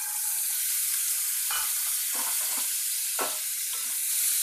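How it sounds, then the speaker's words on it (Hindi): Fresh peas sizzling in hot oil, a steady hiss of frying broken by a few scraping stirs from a spoon in the pan. "अब चूंकि हम ये फ्रेश मटर यूज़ कर रहे हैं तो इसको हम थोड़ी देर तेल में भून लेंगे"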